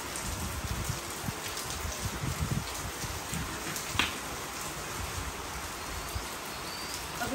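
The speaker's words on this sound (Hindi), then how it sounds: "बहुत ज़्यादा बारिश स्टार्ट हो गई है" Heavy rain pouring down outdoors, a dense steady hiss of drops hitting surfaces, continuous and fairly close with no talking.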